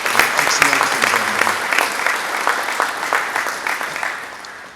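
An audience at a Nigerian presidency event gives sustained applause. The clapping is dense and steady and fades slightly toward the end, with some voices mixed in.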